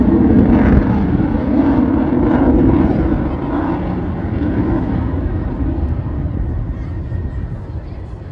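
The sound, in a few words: U.S. Air Force Thunderbirds jet flying at air show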